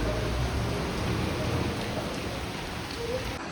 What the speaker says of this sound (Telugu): వర్షం పడ్డది